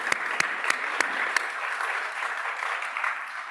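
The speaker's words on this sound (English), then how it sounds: "I'd like to have a round of applause for everybody who made today happen." An audience at a health and equity event applauding the organisers, steady crowded clapping with a few sharp close claps standing out early, moderately loud and alone without talk.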